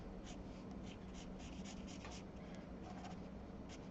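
A pen or pencil sketches a graph by hand on paper, a quiet, close run of soft scratching strokes with short pauses between them.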